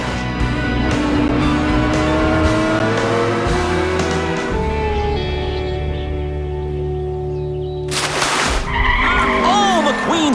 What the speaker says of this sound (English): McQueen spins out in the infield